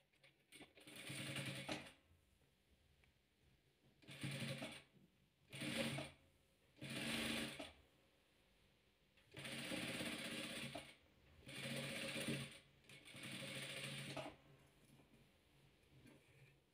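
Sewing machine stitching white fabric onto a red piece for a chessboard-pattern patchwork, running in seven separate bursts of rapid mechanical whirring and ticking with quiet pauses between them; close and fairly soft, with no talk.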